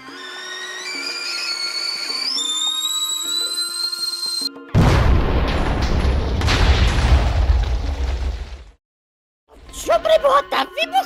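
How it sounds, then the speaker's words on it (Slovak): Explosion in Minecraft during a school-themed Schoolboy Runaway map: sustained game music gives way to a loud, booming, noisy blast lasting several seconds, then silence, then more game sounds. "Čo preboha tam vybuchlo?"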